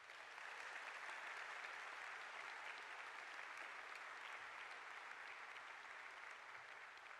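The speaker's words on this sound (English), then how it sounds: "Let's give them a round of applause." Sustained applause from the crowd at Joel E. Ferris High School's Class of 2023 commencement in Spokane, steady and fairly distant, filling the hall without a break for several seconds.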